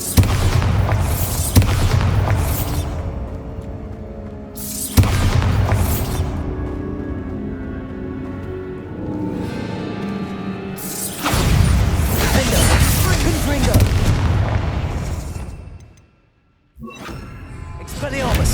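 Bombarda explosion spells in Hogwarts Legacy go off as several heavy booming blasts with crashing debris, each followed by a decaying rumble, loud and close amid other combat noise.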